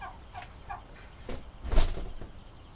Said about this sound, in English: the turkey is taking her poor little ducklings for a walk